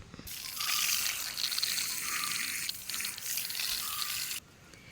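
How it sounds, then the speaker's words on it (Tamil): Water trickles and pours steadily into a potted dahlia plant as it is watered after potting, a continuous close splashing flow lasting about four seconds before stopping abruptly. "இப்போ நம்ம இனி தண்ணி விட்டு ஃபினிஷ் பண்ணிக்கலாம் பாட்டிங்."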